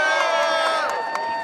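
A protest crowd in downtown Minneapolis cheers and whoops, with loud overlapping voices and shouts close by in a brief burst.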